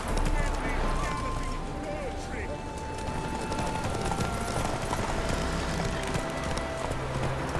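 Roach, a horse in The Witcher 3, clip-clops along at a steady pace with its hooves nearby, while a voice talks over the hoofbeats.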